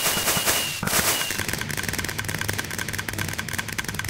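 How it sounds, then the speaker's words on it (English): Minecraft fireworks launching and bursting, a loud whoosh and blasts followed by a rapid crackling rattle of many small pops, close and dense. "let's set this off and watch the fireworks"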